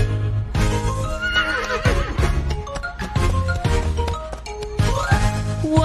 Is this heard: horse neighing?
yes